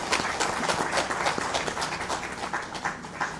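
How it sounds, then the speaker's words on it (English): Audience applause at the ISC-FICCI Sanitation Awards ceremony, a moderate, uneven patter of many hands clapping at a steady pace through the whole clip, slightly fading toward the end. "I request the clapping should go on"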